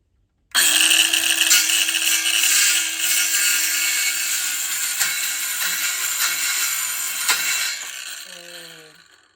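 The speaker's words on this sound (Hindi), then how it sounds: "This is electric saw." Electric saw cutting, a loud, steady high-pitched whine that starts abruptly and holds for about eight seconds before winding down, with a brief voice at the end.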